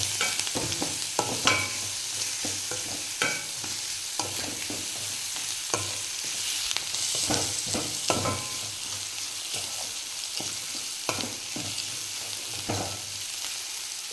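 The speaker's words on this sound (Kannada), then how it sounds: "ಈರುಳ್ಳಿ ಜಾಸ್ತಿ ಫ್ರೈ ಆಗಬಾರ್ದು" Sliced onions fry and sizzle in a pan for a potato palya to go with dosa. A steady hiss runs under repeated scraping and clinking strokes of a spoon stirring them, close and clear, with no talking.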